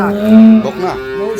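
A cow on a dairy farm with improved-breed milking cows and calves lets out one loud, close, drawn-out moo that falls away at the end.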